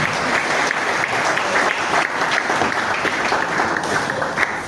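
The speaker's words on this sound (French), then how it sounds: "Nos applaudissements, s'il vous plaît." Sustained audience applause fills the hall at a fraternity New Year's greetings gathering, dense steady clapping from many hands at close range, holding evenly throughout without a break.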